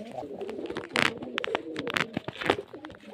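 Murshidabad desi Giribaz pigeons, a pair of Kagzi birds among them, cooing close by in a loft, soft rhythmic throaty calls rising in a few louder bursts over low background murmur.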